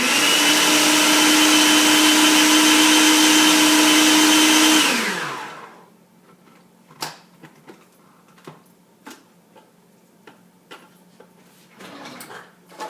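A food processor whirs loudly and steadily while blending basil pesto ingredients, then winds down with a falling pitch and stops, leaving scattered clicks and light clatter from the lid and bowl.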